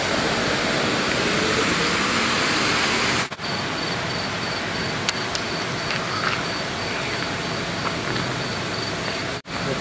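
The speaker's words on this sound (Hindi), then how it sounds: "यहाँ पर सिर्फ शोर है पानी का ना" At the Jameela pumping station, water rushes in a loud, constant roar of broadband noise, with brief dropouts and faint clicks along the way and no voices over it.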